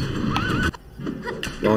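A horse whinnies and its hooves clip-clop in LEGO Indiana Jones 2: The Adventure Continues, loud and close in brief bursts of game sound while players talk over it.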